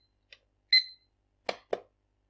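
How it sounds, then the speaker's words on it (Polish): An alarm clock sounds while a recording is under way, giving a few short, clear electronic beeps and blips close by against silence. "Uwielbiam budzik na nagraniu."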